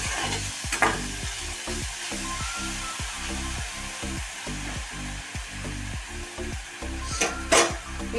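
Chopped green chillies sautéed in a pan, a steady sizzle punctuated by a regular rhythm of scraping stirs, close and even throughout.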